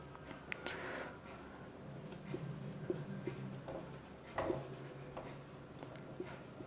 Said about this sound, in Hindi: कुछ और लिखेंगे।